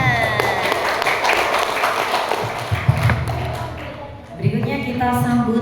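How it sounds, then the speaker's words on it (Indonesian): Audience clapping at a children's preaching competition at sub-district level, a loud, dense burst of hands that fades briefly before picking up again, with voices audible underneath. "Tepuk tangan."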